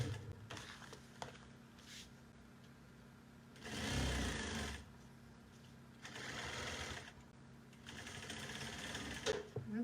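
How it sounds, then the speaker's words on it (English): A sewing machine stitching a half-inch seam on a bucket bag, its steady mechanical whir rising in three distinct runs of a second or more, with quiet pauses and faint handling noises between. "Sewing this at a 1/2 inch."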